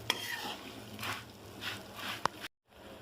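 Dry coconut is stirred into a flattened-rice avalakki mix, soft scraping and rustling strokes in a few bursts with a sharp clink of a spoon against the bowl, then a brief silence.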